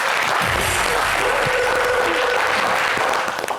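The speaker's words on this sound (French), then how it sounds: "on applaudit pour lui" A studio audience at a lively French-language variety show claps together, a dense steady burst of applause lasting a few seconds with some low rumble and faint voices beneath, tapering at the end.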